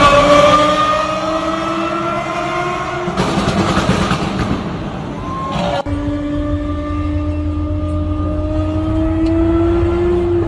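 A Lamborghini tears along an expressway at reckless speed during road stunts, its engine note rising in pitch with a loud, sustained roar, briefly swamped by a burst of broadband noise, then settling into a steady high drone.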